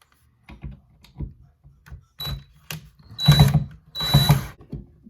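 Phillips screws being unscrewed to remove a faceplate from an electrical outlet: scattered small clicks and scrapes from the screwdriver, then two louder, longer grinding bursts of turning, close up and with no talk.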